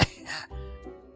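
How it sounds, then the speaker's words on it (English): One short, close cough followed by a throat-clearing rasp, fairly loud and isolated. "He coughed because he wanted Professor to believe that he caught a bug"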